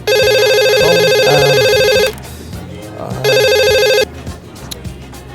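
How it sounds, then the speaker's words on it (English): A bright electronic phone ring sounds in two loud bursts separated by a short pause, with faint voices underneath. "Phone is ringing"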